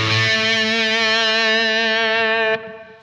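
A high-gain electric guitar runs through the classic channel of a Blackstar AMPED floorboard amp, a thick sustained distorted chord ringing loud and alone, then cutting off abruptly near the end and leaving a fading tail.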